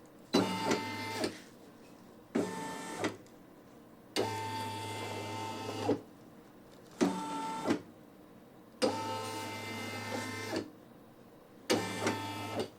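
A Brother PE800 embroidery machine stitches a towel, whirring in bursts of one to two seconds separated by short pauses, close and steady with a low hum beneath.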